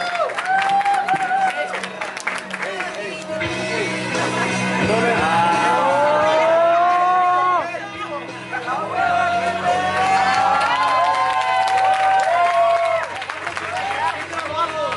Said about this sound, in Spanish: Un aplauso para Kibo, nuestro tercer lugar nacional